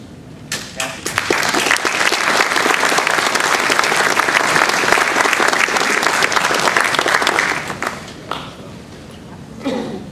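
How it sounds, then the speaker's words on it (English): Warm applause from a crowd at a residents' annual meeting welcoming a new manager to the stage; loud, dense clapping swells and holds for several seconds, then thins into scattered last claps. "I appreciate all the applause"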